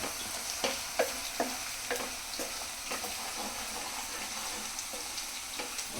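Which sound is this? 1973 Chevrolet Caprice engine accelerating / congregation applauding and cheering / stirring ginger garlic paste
stirring ginger garlic paste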